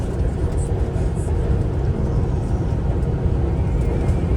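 A car travels a rough construction-zone road in Iowa, a loud steady rumble of engine and tyres heard from inside the cabin, continuous throughout with faint occasional clicks.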